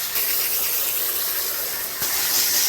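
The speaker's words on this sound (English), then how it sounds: "With your trusty garden hose, we're going to spray out the interior, cleaning off the air coils, spraying it to the exterior" Garden hose spraying water through central air conditioner coils, a continuous close, loud hiss with a brief break partway through.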